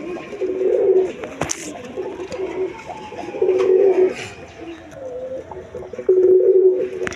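A pair of king pigeons cooing close by, several low rolling coos in short bursts with pauses between, alongside faint background clicks and ambient noise.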